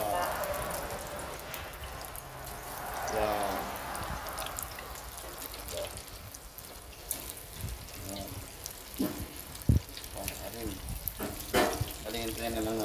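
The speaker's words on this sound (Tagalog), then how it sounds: "Bali, pipritoy na natin dito sa kumukulong mantika." Six chicken pieces deep-fry in boiling oil, giving a constant close crackle and sizzle with scattered pops while a person talks over it.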